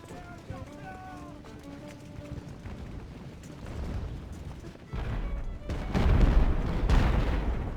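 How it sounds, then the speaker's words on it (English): Cannons fire in the naval strategy game Ultimate Admiral Age of Sail: heavy booms build toward the end over a steady bed of background music and battle noise. "So I'll put both of those cannons on him"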